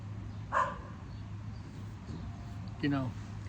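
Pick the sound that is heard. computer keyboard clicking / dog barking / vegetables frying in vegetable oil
dog barking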